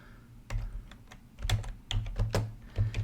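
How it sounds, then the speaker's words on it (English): Fingers type on a computer keyboard up close in a few quick bursts of clicky keystrokes over a quiet background, with no speech. "first I'm going to type in Oklahoma."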